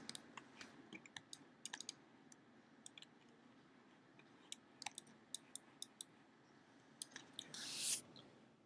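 Quiet, close clicks of a computer keyboard come in short bursts of keystrokes with pauses between, over a faint room hush, ending in a brief louder rustle.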